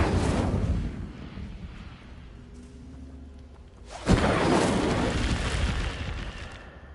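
An Incendio fire spell cast in Hogwarts Legacy: a rushing roar fades, then a sudden whooshing burst of flame erupts and keeps roaring loudly, near and with no voices.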